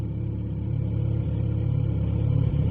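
A 2020 Kawasaki Z900RS Cafe motorcycle fitted with Lextek cat-delete downpipes rumbles at a steady, low, throbbing idle-like cruise, close and continuous, with no talk.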